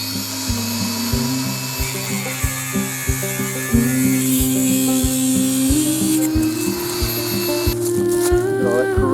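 A power tool cuts a rusted, corroded 16-foot pipe in half, a close buzzing, droning motor whine that shifts pitch as it bites and runs throughout without speech.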